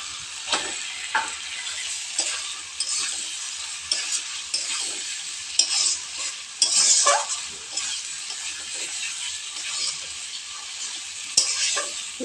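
Ground spice paste frying with prawns in a pan, a steady sizzle broken by repeated scraping stirs and occasional sharp clinks of the spoon against the pan.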